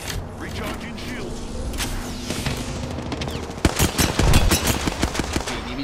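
Rapid gunfire from the video game Apex Legends crackles in close bursts over a continuous mechanical game soundscape, growing louder and denser toward the end.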